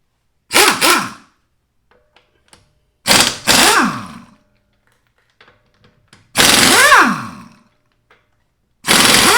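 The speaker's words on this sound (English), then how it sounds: "I have an impact gun which makes it a lot easier taking the wheel off" An impact gun removing lug nuts from a Jeep Renegade wheel, four loud, close bursts of rattling hammering with rising and falling whine, separated by quiet pauses.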